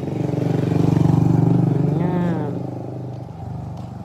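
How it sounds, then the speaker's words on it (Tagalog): A motorcycle passes close by along a rural road lined with crops, its engine note rising and falling over a few seconds with people talking over it. "may dumaan na motor."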